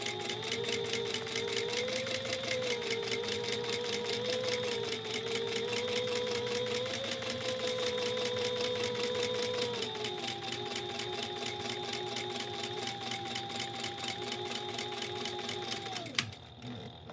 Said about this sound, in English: Sew across this edge at 1/4 inch seam allowance.